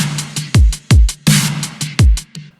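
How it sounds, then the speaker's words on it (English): Rapid sixteenth-note hi-hat ticks drive a steady beat over punchy kick and snare hits, tight and close, with no voices. "I used 16 note for the hi-hat"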